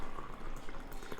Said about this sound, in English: So the kettle has just boiled and now I'm going to pour in the water,